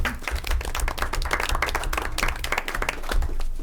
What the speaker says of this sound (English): I would ask my fellow board members for a little round of applause for that group